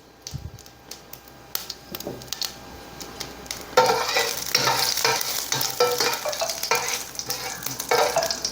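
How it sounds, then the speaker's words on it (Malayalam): Mustard seeds splutter in hot coconut oil, starting with faint sparse crackles that swell into dense, loud popping and sizzling, with a few clinks of a utensil on the pan, no speech. "വെളിച്ചെണ്ണ ഒന്ന് ചൂടായി കഴിഞ്ഞാൽ ഉടനെ കടുകിടുക."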